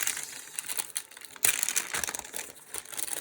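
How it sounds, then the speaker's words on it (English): A wax paper bag crinkles and crumples in the hands at close range, with irregular crisp rustling bursts and one sharp crackle partway through. "I just put it in this wax paper bag."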